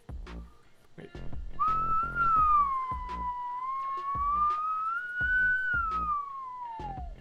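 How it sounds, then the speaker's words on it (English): A person whistles one sustained melody that glides slowly up and down, loud and close, over a steady rhythm of low thumping beats. "I do not understand people that can like whistle by exhaling."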